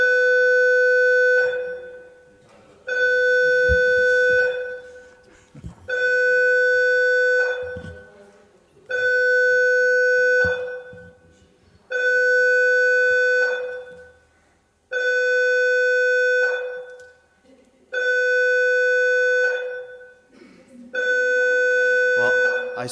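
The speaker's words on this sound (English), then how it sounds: "That's the fire alarm." A fire alarm in a meeting room gives repeated electronic tones, eight loud bursts of about two seconds each with short gaps between, and faint voices murmur during the pauses.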